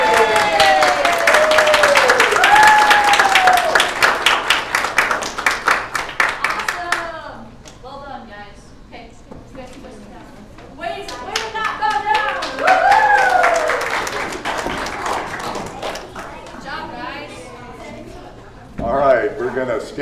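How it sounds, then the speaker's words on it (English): A church congregation at a bilingual family Sunday service breaks into a burst of clapping and cheering, loud and dense at first, then fading to scattered claps as a speaker talks over and after it. "Let's give them a round of applause."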